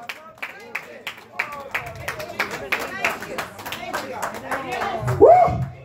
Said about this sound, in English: Now clap your hands and give him a praise